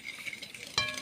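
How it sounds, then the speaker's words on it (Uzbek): Eggs and sugar being whisked by hand, a short soft scraping stir close by with one brighter clink of the whisk near the end. "Hozir tuxumni yaxshilab aralashtirib olamiz venchikda."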